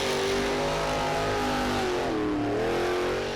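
Loud, continuous roar of a Team Scream monster truck engine during a Monster Jam World Finals freestyle run in a stadium, revving and dipping in pitch near the end.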